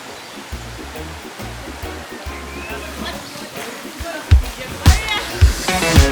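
River water rushing at Sweet River in Westmorland, Jamaica, swollen after days of rain: a steady, loud wash of flowing water, with heavier splashes and surges breaking in toward the end.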